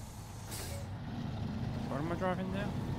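Tatra truck engine in Snowrunner drones steadily at low pitch, with a brief hiss partway through, while someone talks over it.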